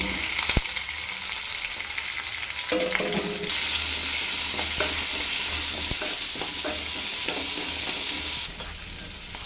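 Onion and curry leaves fry in hot oil for a brinjal curry, producing a loud continuous sizzle with scattered stirring scrapes and clicks throughout, with no talk.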